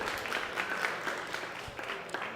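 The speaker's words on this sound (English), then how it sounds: "Big round of applause for Max, everybody." Listeners at a cannabis market and tech event give speaker Max a brief round of applause, a fairly faint, diffuse patter of clapping heard from a distance in the room.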